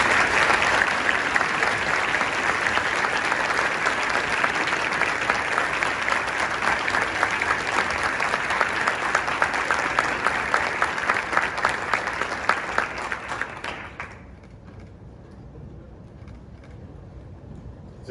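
Sustained, dense applause fills a hall as the audience honours award winners at the 2019 Distinguished Presidential Rank Awards recognition dinner. It holds steady for about fourteen seconds, then fades quickly into quiet room tone.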